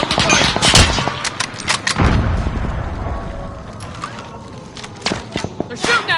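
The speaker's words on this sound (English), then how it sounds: "They're shooting at me!" Video game gunfire in a battle royale match, with rapid bursts of sharp shots and heavy booms clustered at the start, then scattered single cracks and short volleys, loud and close, while a person talks over parts of it.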